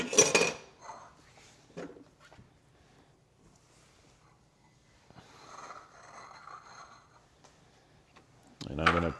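Vegan chicken salad is moved into a serving bowl with a few clinks and scrapes of utensils against dishes, spaced out and fairly quiet, with a voice speaking at the start and the end.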